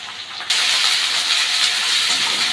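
Ginger and garlic paste fries in a pan with a loud, continuous sizzling hiss that swells sharply after a brief moment and holds steady, with no voices.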